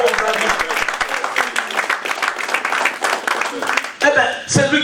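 A church congregation claps in steady rhythmic applause, loud and close, with voices talking and calling out over the clapping before it breaks off near the end.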